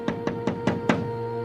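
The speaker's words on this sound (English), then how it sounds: "two suspicious-looking men knocked at the door" Five evenly spaced knocks rap on a wooden door, firm and fairly close, then stop with no one speaking.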